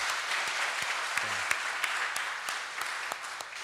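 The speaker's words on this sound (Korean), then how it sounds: "우리 한번 박수 한번 할까요?" Congregation in a church applauds during a Sunday service, a steady wash of many hands clapping with scattered sharper claps standing out, continuing evenly throughout with a brief low voice underneath.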